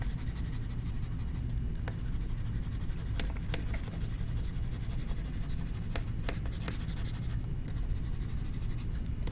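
Drawing and coloring on paper, a continuous soft scratchy rubbing of a pencil or crayon with scattered sharper strokes, close and quiet over low room hum.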